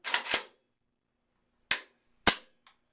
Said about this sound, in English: Now again, function check the rifle.